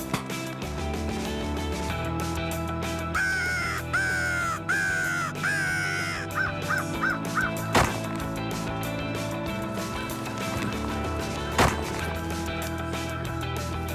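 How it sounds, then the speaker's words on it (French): During a winter hunt in Quebec, crows caw in short, repeated bursts over a busy background, with a couple of sharp, loud knocks standing out. "Les corneilles se présentent maintenant sans aucune retenue."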